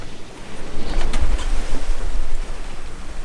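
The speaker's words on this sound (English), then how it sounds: "Gigantic waves." Large waves surge and wash in the English Channel, heard from a sailboat as a loud rolling rush of water mixed with heavy wind buffeting.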